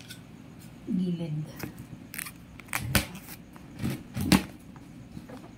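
Scissors snipping through parcel packaging during an unboxing, a few short crisp cuts and crackles close by, with a person talking over them.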